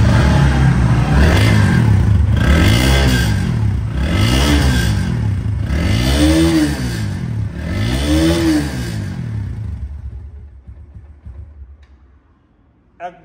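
A Bajaj Pulsar 125cc motorcycle engine is revved in five strong, evenly spaced bursts close by, each swelling and falling back, before the engine dies away to near silence.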